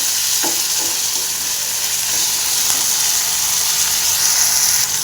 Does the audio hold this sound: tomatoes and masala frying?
yes